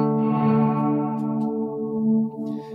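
A sustained instrument tone run through a Night Sky reverb effects pedal, its rich harmonic chord swelling and decaying with a long, washy tail that fades in stages, heard alone.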